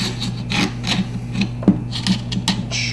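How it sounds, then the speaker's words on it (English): An M207 rifle stock slides onto its buffer tube with a close scraping, rubbing glide and several small clicks and knocks, ending in a sharper click as it locks in place. "and then the stock slides in."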